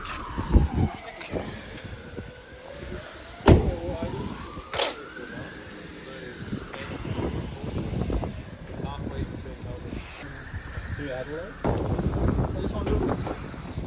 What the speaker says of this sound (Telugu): Let's go for a test drive, guys.